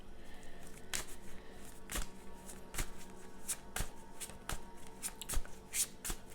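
Tarot cards being shuffled close up, a series of sharp riffling snaps landing roughly every second against a quiet background, with no talking.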